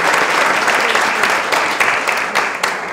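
Sustained, dense applause from an audience at a 2019 conference, honoring young participants, steady and loud throughout with no pauses.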